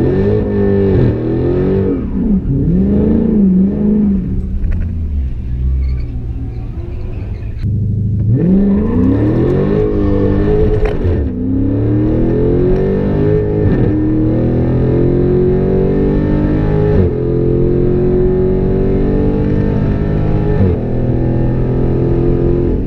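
Dodge Charger ScatPack on a drag strip launching against a Corvette, its engine droning loud and close through rising, strained revs and gear changes with a brief dip, then a long sustained pull.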